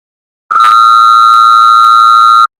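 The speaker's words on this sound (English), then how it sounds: "The phone." A telephone rings once in a single long, loud electronic tone that holds steady for about two seconds and then cuts off cleanly, with no voices.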